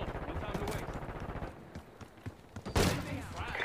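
Gunfire in Call of Duty Black Ops 6, brief bursts of shots and impacts mixed with game noise and voices, ending in a louder crack of fire.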